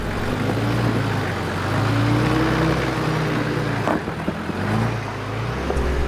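A car engine drones steadily while being driven around a track, its pitch rising and falling with gear changes and throttle, close and loud throughout with no talking.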